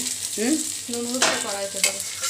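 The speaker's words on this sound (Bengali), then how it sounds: "পোলাওয়ের সব একদম লঙ্কা গুঁড়ো, আদা বাটা, ঘি, নুন, হলুদ দিয়ে মাখা চলে যাচ্ছে কড়াইতে" A pulao mix coated in ghee, chilli powder, ginger paste, salt and turmeric hitting a hot kadai, with a bright continuous sizzle and squeaky scraping from stirring rising and falling up close.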